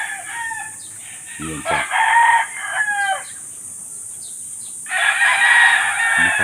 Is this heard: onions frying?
no